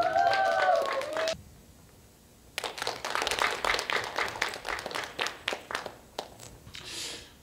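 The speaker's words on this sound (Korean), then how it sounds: "자 박수로 맞이해 주시기 바라겠습니다." Audience applause at a community concert for local folk song, a brief patter of claps with a whistle-like tone, a pause, then several seconds of distinct, uneven hand claps that gradually thin out.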